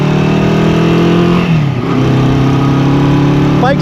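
A Honda CB350-4F four-cylinder motorcycle engine revs steadily and loudly, its dense harmonic drone dipping briefly mid-clip before climbing back, heard up close with no talking.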